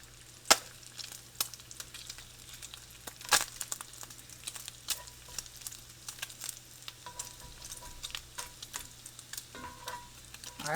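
A crepe cooking in a hot cast iron pan makes a continuous crackling sizzle close up, broken by scattered sharp taps and scrapes from a utensil.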